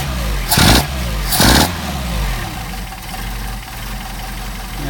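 Mercedes 190SL engine on Solex carburetors, running with too much choke while warm, idling close by with two loud revving bursts early on, then settling to a steady low idle.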